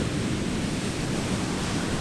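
Ocean surf washes steadily against the shore in a constant, loud roar with a windy, breathy texture and no voices.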